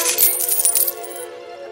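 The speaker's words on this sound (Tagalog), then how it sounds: "bumagsak ang mga gintong barya sa tela" Gold coins drop and clink onto cloth in a fairy-tale scene, a bright jingling shower that is loudest at the start and then thins into fading shimmer with no voices.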